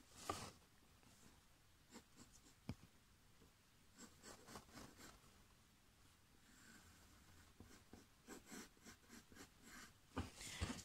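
Pencil sketching a flying saucer on paper: soft scratchy strokes and rubs come in short bursts, close and quiet, with brief pauses between lines.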